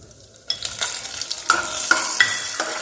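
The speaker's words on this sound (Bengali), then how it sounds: "আগে আমন্ডস আর কাজুটা ভালো করে ভেজে নেবো" Almonds and cashews fry in ghee: after a brief quiet start, a bright, steady sizzle rises, accompanied by repeated scraping and clinking of a spatula against the pan.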